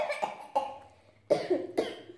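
One person coughs indoors, four short separate coughs with gaps between them, close and moderately loud, no talking.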